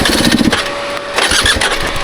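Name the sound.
motorcycle engine running on a trail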